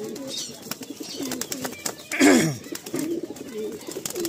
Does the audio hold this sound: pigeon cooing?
yes